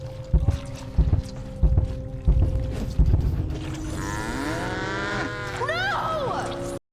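A cartoon cow in Adventure Time lets out a drawn-out, wavering moo against rhythmic creaking thumps, with music swelling behind it.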